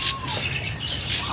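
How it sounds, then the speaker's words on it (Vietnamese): A Hồng Hạnh songbird from Đà Lạt sings in a Vietnamese bird shop, giving bright, close chirps and short whistled phrases at the start and end over a steady background hum. "Hồng Hạnh này hót rất là hay luôn."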